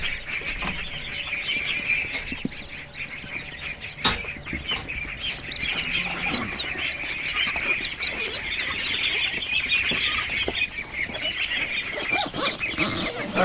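Ducks call continuously at night in a group, a dense chorus of nasal quacks and chatter with occasional sharp louder bursts, fairly close and without any talking.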